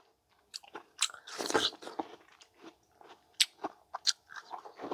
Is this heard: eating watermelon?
yes